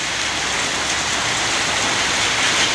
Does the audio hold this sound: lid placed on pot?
no